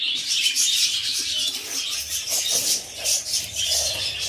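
Rainbow-colored Australian budgerigar pairs chirp and twitter continuously in a close, busy chorus of overlapping high calls, with occasional soft coos and wing flutters.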